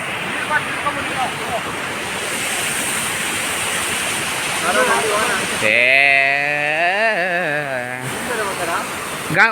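Bandaje Falls, a waterfall reached on a trek, roars as a loud, constant broadband rush of falling water, with voices speaking briefly over it partway through.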